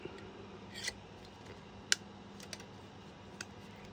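Scissors snip through material for a wooden water tower model for a Christmas village: a few faint, crisp clicks spaced apart over a quiet room hum.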